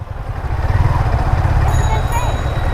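A motorcycle on the road gives a low, steady engine rumble throughout while people talk over it.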